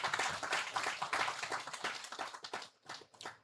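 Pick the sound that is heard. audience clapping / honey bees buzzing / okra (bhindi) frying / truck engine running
audience clapping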